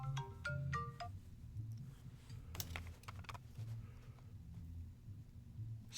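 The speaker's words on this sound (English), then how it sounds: "more phone alarms." A phone alarm goes off with a few short, faint electronic tone beeps in the first second, then continues over steady keyboard typing in the background.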